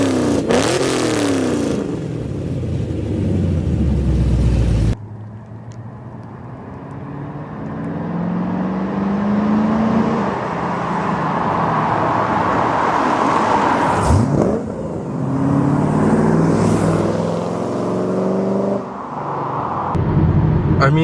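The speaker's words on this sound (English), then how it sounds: "Got a nice V8 sound now." A Chevrolet Camaro V8 with a Borla S-Type exhaust rumbles and revs, a sharp opening blip giving way to a steady deep idle with rising pulls, close and loud.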